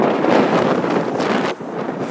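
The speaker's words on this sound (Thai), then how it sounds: "ลมอาจจะแรงไปหน่อยนะ" Strong wind buffets the microphone on the deck of a boat cruising the Bosphorus, a loud, steady roar of gusting air with no voices.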